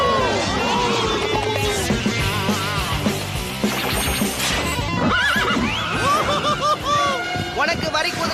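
Cartoon zebra whinnying at an amusement park, loud neighs with clip-clop hooves under busy music and cartoon voices talking throughout.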